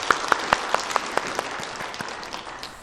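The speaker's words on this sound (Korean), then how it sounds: "하나님께 영광의 박수 올려드리겠습니다." A church congregation claps together in applause, steady rapid handclaps filling the room with a few louder claps standing out near the start, then gradually thinning.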